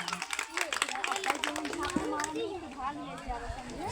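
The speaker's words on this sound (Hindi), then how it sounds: "एक बार बुजुर्गों के नाम जोरदार तालियां।" At a Hindi poetry recital, a kavi sammelan, the audience breaks into brief, scattered applause. A voice soon talks over the claps and carries on above them.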